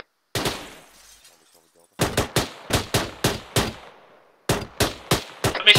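Suppressing gunfire in the video game ArmA 3, a single shot and then two series of sharp, evenly spaced rifle shots, each cracking loud and trailing off into a short echo over quiet gaps.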